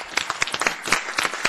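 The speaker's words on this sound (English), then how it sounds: "let's clap" People clap at a board of trustees meeting: a brief, loose patter of hand claps, close and moderately loud, lasting only a moment.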